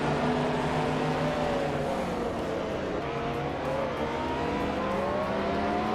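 Several video game race cars, including a classic 1989 Ferrari 348, roar off the start at Virginia International Patriot Reverse, engines droning and rising in pitch together in a dense, steady pack.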